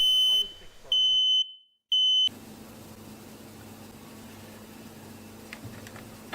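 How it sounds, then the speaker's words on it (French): A smoke detector sounds its alarm during a smoke test, giving loud, shrill beeps in quick bursts that cut off abruptly, followed by a low, quiet room hum. "Le détecteur de fumée s'est mis en marche"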